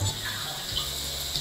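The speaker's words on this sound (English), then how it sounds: "You install it on your toilet, and it shoots water up your butt." A toilet-mounted bidet sprays water in a steady, hissing stream, close and continuous with slight shifts in flow.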